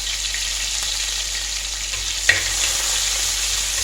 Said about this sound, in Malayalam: നമ്മുടെ കടുക് പൊട്ടി വന്നിട്ടുണ്ട്